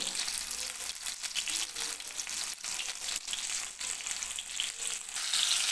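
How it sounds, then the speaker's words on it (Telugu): Fish fries in oil in a pan over a medium flame, giving a continuous crackling sizzle with scattered pops, close and steady throughout. "మీడియం ఫ్లేమ్లో పెట్టుకొని చేపలు ఫ్రై చేసుకుంటే లోపల వరకు కుక్ అయ్యి మనకి చాలా టేస్టీగా వస్తాయి"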